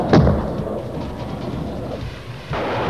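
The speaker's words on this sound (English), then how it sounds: "The second Mirage aircraft is firing a Matra missile." Missile launch from a Mirage jet at a Pakistan Air Force firing camp: a sharp, loud blast at the start, then a long rumbling roar that fades and rises again near the end.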